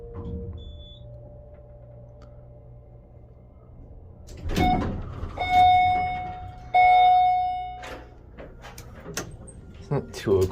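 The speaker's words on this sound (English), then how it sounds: "I gotta hear that chime again" Modernized Dover hydraulic elevator at an office park sounds its arrival chime, bright sustained tones struck twice in quick succession around the middle, over low machine hum with voices and shuffling nearby.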